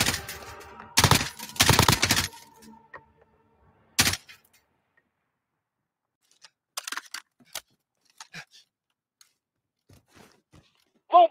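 Gunfire in Call of Duty Warzone comes as a couple of loud close bursts of rapid shots, one more single crack, then near-silence with scattered faint clicks and distant pops.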